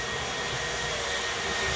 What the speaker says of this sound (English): If the vacuum gets too loud, tell me and I'll pause it for you.